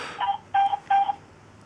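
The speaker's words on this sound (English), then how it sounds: "now we'll dial the number here for the Asterisk PBX" Three short telephone keypad tones sound in quick succession on a speakerphone while dialing into an Asterisk PBX phone system, each a clean beep with brief gaps between them in an otherwise quiet room.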